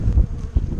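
Honey bees hum in a low, steady buzz from an opened hive at an apiary, close and continuous for under a second.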